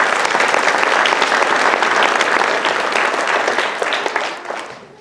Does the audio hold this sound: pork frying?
no